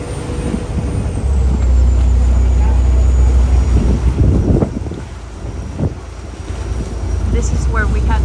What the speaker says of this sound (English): No, that's a private boat.